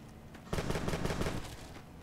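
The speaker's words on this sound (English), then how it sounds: "Someone's shooting." A short burst of rapid automatic gunfire erupts in Fallout New Vegas, a dense, loud rattle of shots lasting about a second before fading into ambient background.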